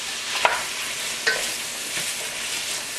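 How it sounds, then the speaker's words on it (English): Sausage and onions frying together in a pan, a steady close sizzle with two sharp utensil knocks from stirring. "I'm going to cook it through until the onions are tender, maybe a little bit of color,"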